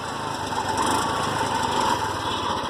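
A TVS King auto rickshaw engine with a bad noise, idling in a steady, buzzing rattle at moderate volume with a faint rhythmic knock underneath.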